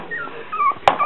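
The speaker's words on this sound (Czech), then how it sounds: "ale kníčí, ještě nemůžou štěkat" A young puppy whines in thin, wavering high-pitched whimpers, too young to bark, close and fairly loud within a brief moment.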